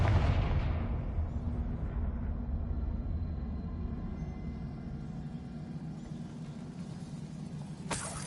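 Fiery Confringo spell blast in Hogwarts Legacy, a loud booming explosion at the start whose deep rumble slowly decays over several seconds, followed by a short sharp burst near the end.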